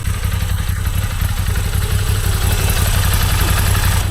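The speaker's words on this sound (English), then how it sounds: "that was the first time the clutch was released on this motorcycle" A touring motorcycle engine runs steadily and loudly throughout, with a low rumbling idle and a faint mechanical clatter.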